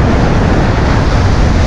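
Ocean waves wash onto a beach in a steady, loud, close roar of surf with wind buffeting the microphone throughout, and no voices are heard.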